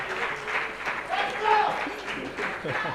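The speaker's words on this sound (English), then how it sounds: "A round of applause for Bisayo Busari Akin-Nadeju." An audience at a conference on Nigeria's unity applauds in a steady wash of clapping while voices carry over it and someone speaks above the noise.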